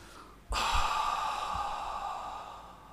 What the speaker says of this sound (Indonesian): melepaskan nafas sampai seolah-olah udara kayak kosong seperti ini